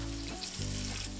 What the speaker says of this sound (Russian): обваливаем шарики в муке и отправляем их на разогретую сковороду